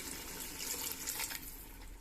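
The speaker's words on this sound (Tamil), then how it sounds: "அதுக்கு தகுந்த மாதிரி 4 டம்ளர் தண்ணி ஆட் பண்ண போகிறேன்" Steady splashing stream of water poured into a cooking pot of mutton biryani with bullet rice, a continuous close rushing pour lasting the whole moment with no talk.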